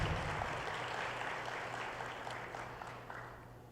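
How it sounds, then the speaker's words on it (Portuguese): Church congregation applauding during a Portuguese-language sermon, a steady dense wash of clapping that slowly fades over a few seconds with no voices on top. "Você pode aplaudir o Senhor Jesus?"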